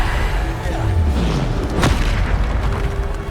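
A Bombardo spell goes off in Hogwarts Legacy with a deep, booming explosion amid steady combat noise, with a sharp burst near the middle of the brief moment.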